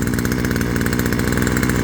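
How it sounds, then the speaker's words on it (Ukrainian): A gasoline brush cutter runs at its first start, its small two-stroke engine puttering in a fast, even rhythm, close and fairly loud, with no pauses. "написано в інструкції, що треба дві хвилини, щоб поробило, щоб загрівся мотор"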